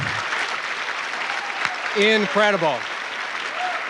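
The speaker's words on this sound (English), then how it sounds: "let's have another round of applause for the 30 presenters." An audience at an entrepreneurs breakfast applauds presenters with steady, dense clapping throughout, while a voice speaks briefly over it.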